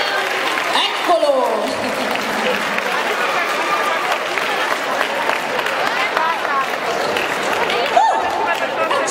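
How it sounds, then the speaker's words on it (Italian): At the Gardacon 2022 awards ceremony in Italy, a crowd applauds the contest winners with steady, dense clapping that fills the room, mixed with cheers and chatter from the audience. "Facciamo un applauso ai vincitori del nostro contest."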